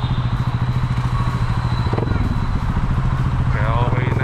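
A motorcycle with a non-stock aftermarket exhaust runs steadily up close, its engine putting out a continuous low throbbing drone, while someone talks over it throughout.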